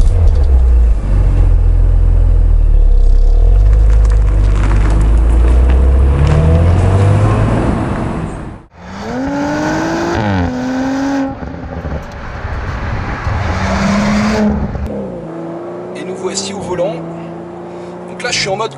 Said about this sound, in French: Et je dirais qu'il reste plus qu'à démarrer.